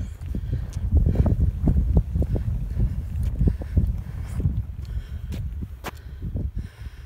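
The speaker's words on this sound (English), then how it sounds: "Sorry about the wind." Strong gusting wind buffeting the microphone while hiking with a heavy pack on flat ground, a loud low rumble with irregular thumps and possible footsteps, no speech.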